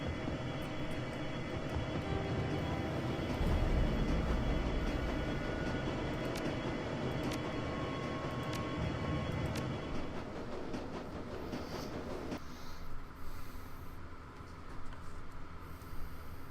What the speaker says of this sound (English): It is a short train ride to Gesunbrunnen.